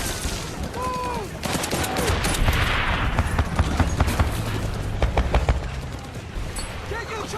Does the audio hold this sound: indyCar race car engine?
no